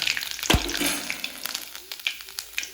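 Loud frying sizzle with crackling pops as chopped ginger hits hot oil and mustard seeds, a thump early on, then steady spluttering nearby.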